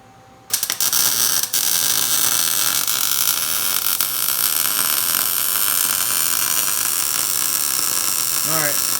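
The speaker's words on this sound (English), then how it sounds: "Welding." A welder works on a rusty Toyota Tacoma frame, kicking in abruptly with a loud, continuous crackling buzz that holds steady to the end, briefly broken by a short interruption early on.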